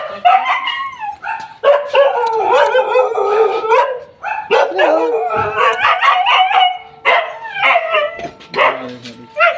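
A dog barks loudly and close by, mixing sharp barks with drawn-out howling yelps and whimpers in repeated bursts over nearly ten seconds, with a few voices heard alongside.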